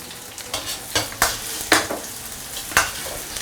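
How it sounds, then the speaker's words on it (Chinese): Ginger slices, garlic slices, shallot sauce and small chilies sizzle in a hot wok with lard and oil, a spatula scraping and tossing in sharp, regular strokes about every half second over a constant frying hiss. "烧热锅，我们下入姜片、蒜片，还有干葱酱，来点小米椒，把这个料头炒香"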